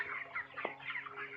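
Broiler chickens, 27 days old, in a poultry farm give off soft, continuous clucking and chirping, fairly faint and steady, with no talk over it.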